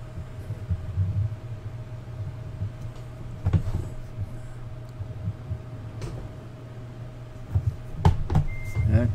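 Truck reversing beeps in Euro Truck Simulator while backing a trailer into a tight spot, a steady tonal beep over a low engine rumble with a few louder knocks and clatters, no talking.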